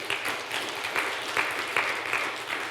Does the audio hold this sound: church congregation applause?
yes